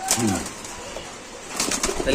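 Pigeons at a seller's loft give soft coos and brief wing flaps, close by in short bursts with quiet gaps between.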